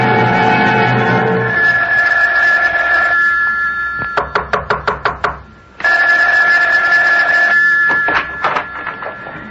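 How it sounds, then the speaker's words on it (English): An old-style telephone bell rings in loud, repeated bursts, each ring a rapid metallic clatter, with pauses between rings, set in an interior scene of a radio drama. "Isn't that your phone I hear ringing?"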